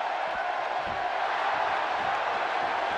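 A WWE 2K18 wrestling arena crowd roars and cheers steadily, a dense, loud, continuous wash of crowd noise with faint speech-like sound underneath.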